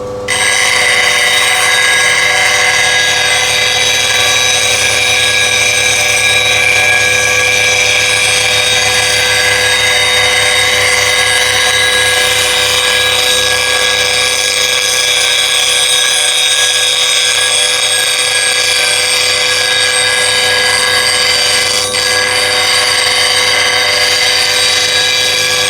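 A tool is sharpened against a coarse CBN grinding wheel, giving a loud, steady, high ringing whine that holds unbroken for the whole stretch with no talking.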